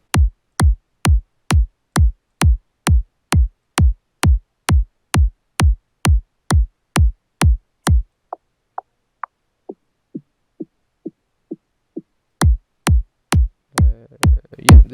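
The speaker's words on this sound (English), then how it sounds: "punchy kick" Punchy electronic kick drum hits repeat in a steady four-on-the-floor pulse for eight seconds, give way to a few short synth blips, then return loud and close in a dance track being built up with bass.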